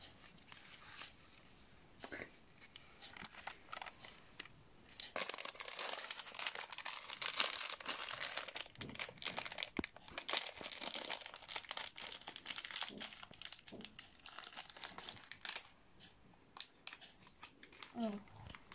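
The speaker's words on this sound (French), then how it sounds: "Maintenant, on va ouvrir le premier sachet." A plastic bag of LEGO Minecraft pieces is torn open and crinkled, giving a close, busy run of rustling and crackling that swells midway and lasts throughout, with no talking over it.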